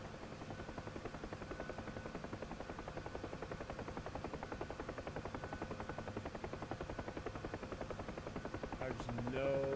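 Steady, pulsing drone of a Gazelle helicopter's rotors and turbine in the DCS World flight simulator, continuous and fairly loud throughout, rising slightly at the very end.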